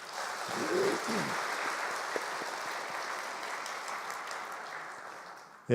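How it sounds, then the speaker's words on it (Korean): Audience applause for the children and youth at a New Year special dawn prayer service in a church, a broad sustained wash of clapping from a large crowd that holds steady and then ends abruptly. "우리 훌륭한 우리 아이들 청소년들 위해서 크게 박수하겠습니다"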